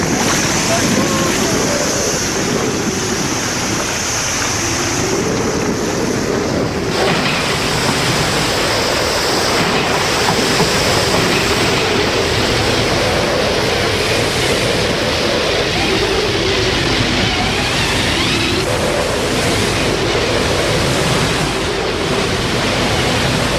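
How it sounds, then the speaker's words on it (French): Heavy ocean swell and surf crash around a Hobie Cat catamaran far out on the Atlantic, a steady loud roar of wind and churning water that never lets up, with a muffled voice breaking in at times. "Partout, des vagues de 10 ou 15 mètres de haut"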